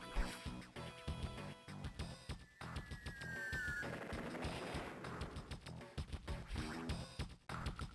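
Bombing attack sound effects in the Advance Wars 2 video game, quiet rapid bursts of crackling explosions and gunfire-like pops with a brief whistling tone partway through, continuing in uneven clusters.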